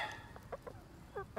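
Chickens being fed corn cluck in short, soft bursts at a quiet distance, several hens overlapping in brief irregular calls.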